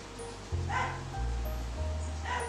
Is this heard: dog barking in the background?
yes